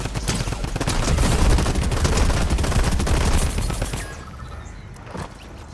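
Gunfire in the Fortnite video game: dense rapid volleys of shots, loud and busy for about four seconds, then thinning to sparse quieter pops.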